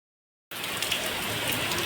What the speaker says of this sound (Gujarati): વરસાદ તો બહુ વધી ગયો